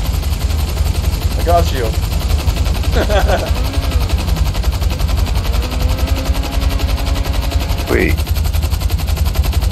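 Gunfire in the video game GTA, heard as steady, loud rattling bursts throughout, with excited players talking over the shooting.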